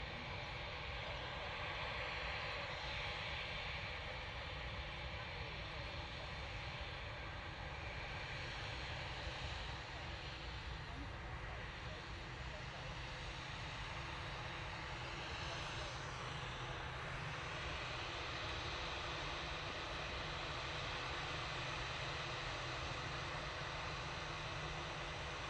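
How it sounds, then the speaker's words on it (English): Boeing 787-9 Dreamliner in peony livery at Manchester Airport, its jet engines giving a steady, broadband roar that holds level for the whole stretch, moderately loud and continuous with no breaks. "Beautiful Boeing 787-9 Dreamliner"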